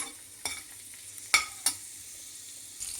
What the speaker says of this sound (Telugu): ఉల్లిపాయలు, ఎండుమిరపకాయలు వేయించుకొని తీసుకోవాలి.